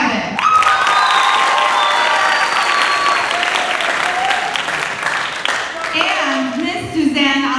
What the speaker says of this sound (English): Let's give a round of applause to Miss Ikram Javed